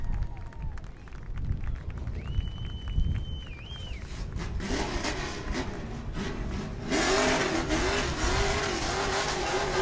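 Race car at New Smyrna Speedway revving through a victory burnout after a win, a steady roaring engine drone that rises and grows harsher with tire noise, heard at a distance with crowd sounds and a tone sweeping overhead.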